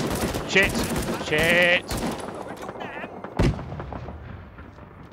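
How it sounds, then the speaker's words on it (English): Gunfire in the Vietnam-era shooter game Rising Storm 2: Vietnam: sharp, loud shots and explosive cracks burst in quick succession, with a man swearing briefly over the battle noise. "And I'm getting shot at."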